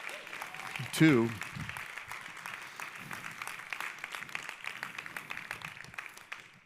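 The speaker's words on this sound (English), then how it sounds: "Let's give them a round of applause" Applause from a conference audience at a quantum computing talk, steady broadband clapping lasting several seconds, with a brief voice speaking near the start.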